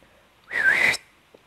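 A single short rising-then-level human whistle lasts about half a second, close and clear against near silence, with a faint click afterward.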